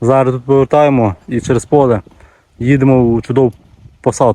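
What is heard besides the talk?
No distinct noise like a dog, phone or traffic.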